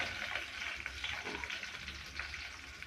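Shallots and garlic frying in oil for a clear vegetable soup, a steady broadband sizzle with faint stirring scrapes, close and continuous with no voices.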